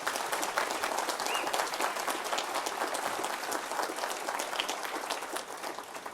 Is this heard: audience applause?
yes